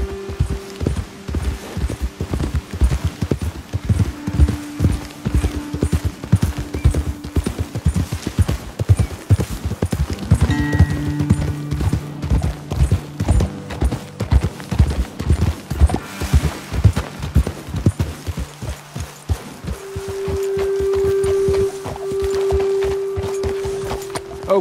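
Rhythmic clip-clop of several horses' hooves on a trail in the video game Red Dead Redemption 2, steady and close, with occasional snorts and a sustained tonal musical hum underneath.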